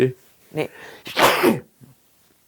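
A single loud, sharp sneeze close by, with a short quiet voiced word just before it and a faint breath afterward.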